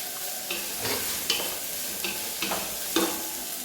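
Chopped tomatoes being stirred in a frying pan, a soft steady sizzle broken by a few scraping strokes of the spoon at a close, moderate level, with no voices.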